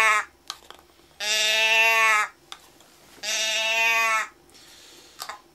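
A handheld animal call device of the kind made to mimic cows and moose gives two long, loud, buzzy bleating moans, each about a second, separated by a short pause with faint handling clicks.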